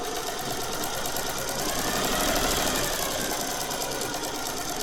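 A Singer 401A sewing machine runs a reverse straight stitch, a brief, steady mechanical hum with a fine rapid chatter, close and continuous for a few seconds.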